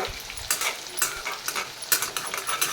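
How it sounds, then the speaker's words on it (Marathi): Coriander vadis made with roasted peanut powder fry in oil over a medium flame, giving a lively crackling sizzle with bursts of stirring and light metallic clinks, close and without speech. "गॅसची फ्लेम मीडियम ठेवूनच या वड्या आपल्याला तेलामध्ये तळून घ्यायच्यात"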